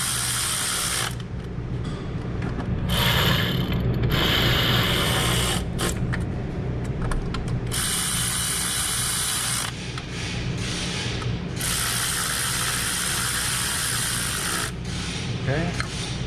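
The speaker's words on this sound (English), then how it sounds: "Let's tighten it back again." A ratchet tightens a bolt on the coolant system of a 2022 Hyundai Tucson, with repeated close bursts of quick clicking separated by short pauses.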